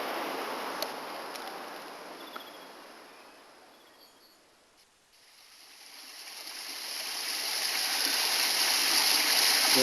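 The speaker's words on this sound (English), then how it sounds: "Water gushing out of the hillside into a cistern" Water gushing out of a hillside into a cistern rushes steadily in a continuous hiss, fading down briefly mid-way and then swelling louder again toward the end.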